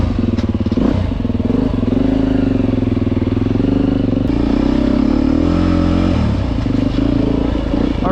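A Beta 350 RR Race Edition dirt bike engine runs loud and close while being ridden, a steady throbbing drone that rises and falls with throttle changes, with some rattles and clatter over it.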